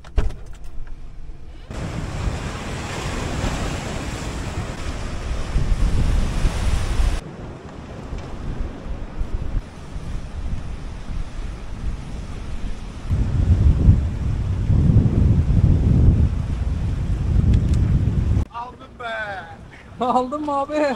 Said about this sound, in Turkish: Baya bir rüzgar var.